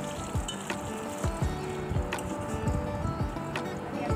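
Whole cumin, cloves, bay leaf, cinnamon and cardamom sizzling in hot mustard oil in a wok, a constant crackling fizz broken by repeated scraping strokes of stirring.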